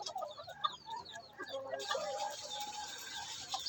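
A wild chicken (labuyo) clucks softly in short, scattered calls while being hand-fed a snack, heard close with a hiss of background noise joining partway through.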